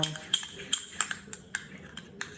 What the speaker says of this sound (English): And you whisk that up a little bit